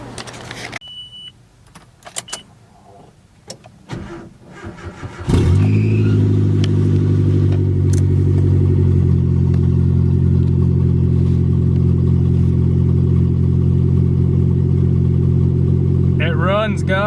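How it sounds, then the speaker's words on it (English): A boosted Nissan Hardbody pickup with its interior stripped sits quietly with a few clicks and clunks, then the engine cranks and fires into a loud, steady idle that runs close by. "I'm gonna start up the truck, show you guys that it runs."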